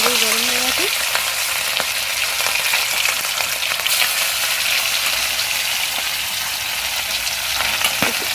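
A fish head drops into well-heated oil and fries with a steady, dense sizzle and crackle, close and loud, continuing without pause.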